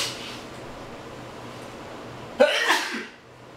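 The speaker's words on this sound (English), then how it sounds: "It's just sneezing." One sharp, loud sneeze bursts out after a stretch of quiet room tone, followed by a short trailing exhale before the room settles again.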